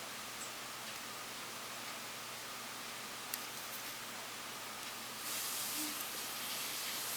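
Spray paint misting onto a Hasegawa Eggplane F-14 Tomcat plastic model, coating it blue: a steady, soft hiss running without a break, growing slightly brighter and louder toward the end.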